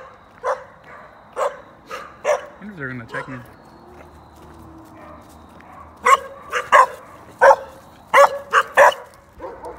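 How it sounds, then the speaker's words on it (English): Small dogs bark in repeated sharp yips, close by and surrounding a jogger in Tenaha, with a short burst of talking partway through and a quick flurry of barks near the end. "Where are these dogs coming from?"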